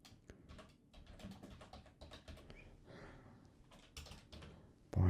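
Typing a project name on a computer keyboard: a quiet, close run of irregular key taps and clicks, with a brief louder knock at the very end and no talking.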